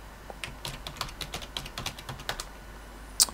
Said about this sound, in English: So I'm going to type in a password that I know.